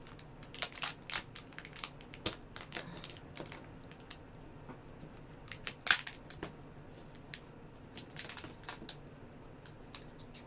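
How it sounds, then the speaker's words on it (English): A taped laundry folding mat is bent and folded, giving faint, close crinkling and crackling of tape and board in irregular small bursts, with no speech. "If I bend it, you can see the tape. And then I'm gonna fold it"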